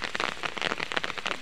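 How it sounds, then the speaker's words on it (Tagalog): Sudden rain pattering steadily on surfaces at a fishing spot, a dense, even rush of drops close by with no voices. "At bigla nga pong umulan."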